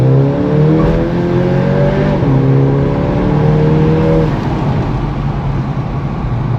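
A Volkswagen Jetta GLI with a Unitronic Stage 1+ tune accelerating hard in second gear: a loud, close engine note climbing steadily in pitch, briefly dropping at a shift, then climbing again before easing off.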